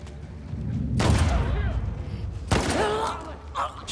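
Gunfire in The Last of Us Part II comes as two sharp, loud blasts about a second and a half apart, each followed by a rumbling tail, with faint game sounds in between.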